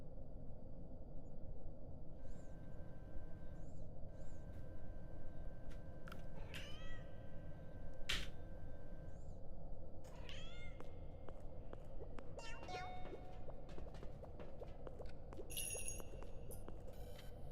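Repeated kitten meows in a video game, a run of short cries spread across a constant low hum, each call brief and moderately clear, no voices.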